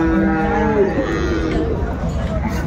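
Sahiwal cattle, bulls, calves and cows low and moo at a busy livestock market, with a long drawn-out moo near the start over a steady wash of crowd and animal noise.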